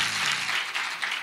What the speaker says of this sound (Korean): 이야, 박수 쳐요.